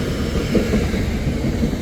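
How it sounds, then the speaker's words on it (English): Loud, continuous rumble of a train rolling past close by a cycleway near Petone, New Zealand, a dense low roar with faint rhythmic clatter of wheels on track. "It's not the traffic, the cars, it's the train going off."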